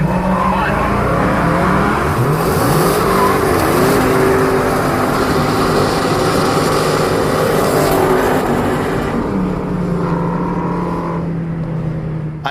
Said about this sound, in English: this first session of the Burnout Drag Race is fairly definitive as to who won